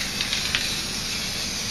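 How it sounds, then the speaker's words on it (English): Clear coat paint hisses from a spray can in a steady, even rush with a few faint spurts near the start, close by and without any talk. "now I'm going to spray some clear down here"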